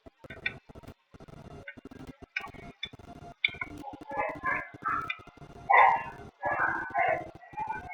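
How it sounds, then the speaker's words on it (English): A dog barks in quick, excited bursts that grow louder and more frequent, set against a steady ticking and some talk in the background. "my dog is going a little bit crazy."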